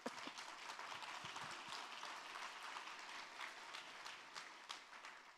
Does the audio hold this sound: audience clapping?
yes